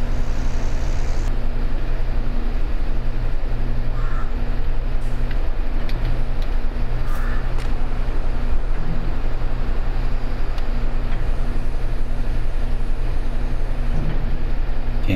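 A steady, loud tractor engine drone in Farming Simulator 22, low constant humming tones throughout, like a tractor idling or driving, with no voices.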